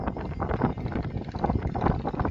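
Steady wind rushing over the microphone on a tiny rural path in Samut Prakan, Thailand, a dense rumbling roar that stays fairly even, with some faint clattering within it.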